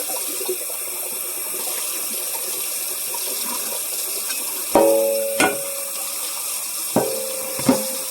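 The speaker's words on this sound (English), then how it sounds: "I'm going to grab the pasta and I'm going to drain it and rinse it." Pasta drained and rinsed under running water at a sink, a steady close hiss of flowing water with a few sharp clanks of a pot or strainer near the end, no talking.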